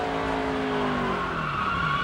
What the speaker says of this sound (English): Here's a look from Scott Wimmer's in-car camera going into turn 3.